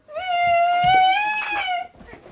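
Young child wailing in one long sustained cry that trails off, close and loud, with no speech over it.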